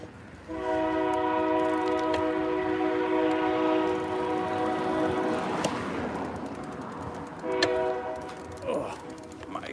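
A train horn blares in long sustained blasts close by, first held for several seconds then sounding again briefly, over rumbling rail noise and outdoor wind while riding at night.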